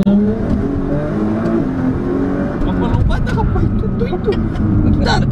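Engine of a Nissan GTR tuned to 1800 hp roaring as it accelerates, a loud sustained run with rising pitch, while people talk over it inside the car.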